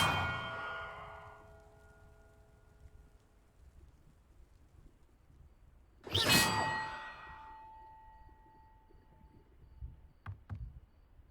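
Bells rung in the video game Hogwarts Legacy: a ringing chime fades out at the start, then one loud bell strike rings out and decays slowly, followed by a few faint, brief clinks.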